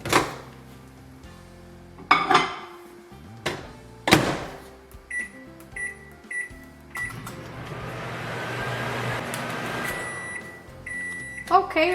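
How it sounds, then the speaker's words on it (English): A microwave oven heats gelatin, its door clicking and keypad beeping before a steady running hum, with more beeps at the end and someone speaking at times. "I'm going to place the gelatin in the microwave for about 20 to 30 seconds"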